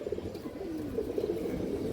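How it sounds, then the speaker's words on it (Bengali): A silver makra male pigeon coos in a low, rolling, continuous murmur over a steady background hiss, fairly close and moderately loud. "সিলভার মাকড়া নর কবুতর"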